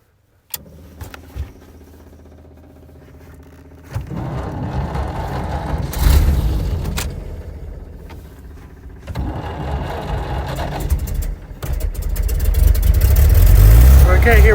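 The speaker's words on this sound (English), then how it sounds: "Okay, let's start the car." A car engine cranks and catches, then settles into a running idle that swells and rises in several stages, with a voice speaking over parts of it.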